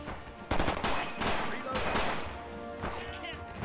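Automatic weapons rattle in Red Orchestra 2: Rising Storm, with rapid overlapping bursts of gunfire, including an M1928 submachine gun, crackling fairly close amid a busy battlefield din.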